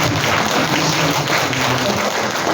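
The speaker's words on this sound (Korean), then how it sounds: "박수하시겠습니다" Church congregation clapping together after a prayer: a dense, continuous wash of applause filling the room for a couple of seconds.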